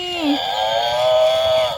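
A buffalo gives a single drawn-out moo on an outdoor lawn, rising and holding steady, loud and close with little else around it.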